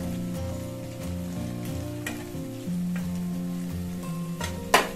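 Green beans added to a frying pan and stir-fried for a village-style country chicken curry, with a steady sizzle and occasional scrape and clatter of stirring, ending in a sharp louder burst near the end.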